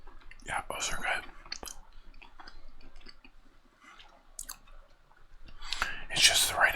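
Crunchy cookies being chewed close to the microphone, soft crisp bites and munching at a low level, with a few quiet clicks and brief whispered speech.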